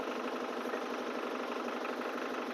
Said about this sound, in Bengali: চারিদিকে এরা দুজনে বোট চালাচ্ছে